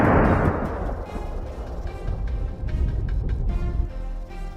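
Rapid gunshots fired at a fleeing herd of wild boars during a hunt, a loud opening blast followed by a dense rolling clatter of shots and echoes that stays heavy and continuous throughout.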